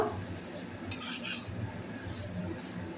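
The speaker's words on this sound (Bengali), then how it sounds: "মটর কড়াই দিয়ে সব মশলা ভালো করে কষিয়ে নেব।" A spoon scrapes and clinks against a kadai while boiled dried peas are stirred with spices for ghugni, a few short metallic scrapes over a soft low background, close and quiet.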